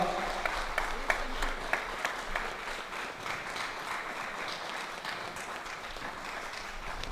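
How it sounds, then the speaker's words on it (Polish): Audience applause at an award ceremony where a statuette is presented, steady clapping from a crowd in the stands, moderately loud and continuous with a few sharper claps standing out. "Arturie, brawo, wielkie brawa."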